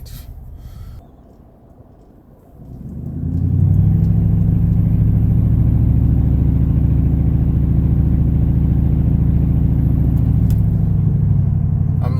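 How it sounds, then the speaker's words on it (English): A 2018 Toyota Tundra with its muffler removed idles loudly and steadily, a deep close-up rumble that rises after a quiet start and holds for the rest of the clip. "The muffler's off now. This thing is loud as"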